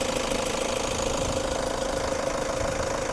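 A 3.0-litre diesel engine in a 2016 Toyota Commuter van idles steadily, a continuous rumbling drone with a faint knocking texture, close up and unbroken throughout.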